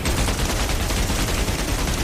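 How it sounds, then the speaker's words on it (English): Cannons of a BF-109 K-4 fighter in the DCS World flight simulator pound out a sustained, loud, heavy stream of rapid shots that blur together over a constant engine drone. "Cannons fire."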